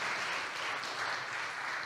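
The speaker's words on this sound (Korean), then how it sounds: "우리 박수로 격려하시겠습니다" Congregation at a Sunday church service applauding, a quiet, steady wash of clapping from many hands that holds evenly for the whole stretch without voices.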